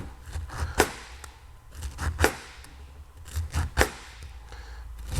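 A knife cuts through grilled pineapple on a board, several sharp separate slicing strokes at uneven intervals with quiet gaps between them, close and fairly crisp.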